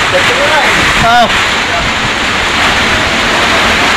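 Loud, continuous roar of a rushing river flooded by Typhoon Kristine fills everything, with a person's voice briefly heard over the torrent.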